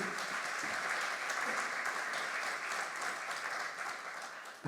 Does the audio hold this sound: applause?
yes